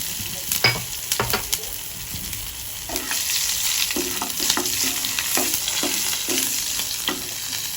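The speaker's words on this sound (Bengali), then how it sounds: "আর এতে সামান্য একটু কালো জিরে অ্যাড করলাম।" Black cumin seeds frying in hot oil with a little asafoetida, for a vegetarian brinjal-in-yogurt dish: a steady, close sizzle with a scatter of sharp pops and stirring clicks, no talking.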